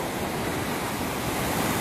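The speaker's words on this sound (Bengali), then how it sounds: "দুর্দান্ত ঢেউ চলছে, একদম দুর্দান্ত" Strong sea waves pound Digha beach during a cyclone red alert, making a steady, dense roar of surf with wind rush throughout and no voices.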